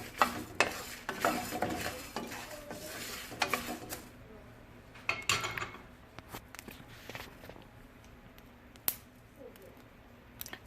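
Methi seeds and curry leaves roasting in a pan for horsegram and sprout chettinad rasam give a light sizzle with sharp popping splutters and stirring clicks, busier at first, then fading to sparse crackles.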